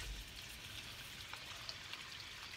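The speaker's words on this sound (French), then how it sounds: "à partir du moment où l'huile est chaude, la casserole est chaude, je rajoute le poisson." Fish sizzles in hot oil in a saucepan while cooking for a seafood carbonara, a steady, faint crackling hiss with occasional small pops and no talking.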